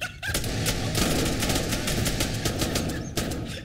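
Dense, continuous automatic gunfire from an Arma 3 firefight rattles without pause for several seconds, loud and close, with rapid overlapping shots layered over a busy battlefield din.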